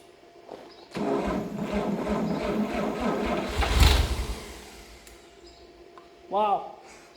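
A 1954 Chevrolet 261 six-cylinder engine, unstarted for 40 years, cranks briefly and catches, settling into a steady loud run with a surge midway and a voice toward the end.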